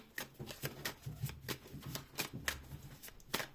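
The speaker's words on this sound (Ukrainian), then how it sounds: "Я гарно перетасувала колоду" Cards are riffled and shuffled in quick repeated bursts, a soft crisp flutter recurring about every half second, close and quiet, with no talking.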